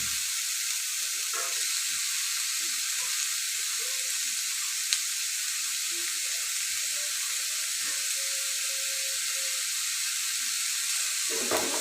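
Cut arum root (man kochu) fries in a pan with a constant bright, airy sizzle that stays even throughout, with faint clinks and soft movement sounds underneath and no speech.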